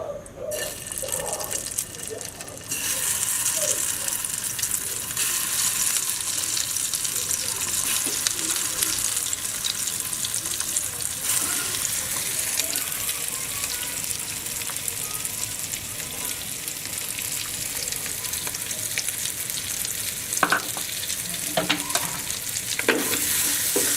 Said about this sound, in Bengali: চিকেন ভাজার জন্য আমি সামান্য তেল নিয়েছি এখানে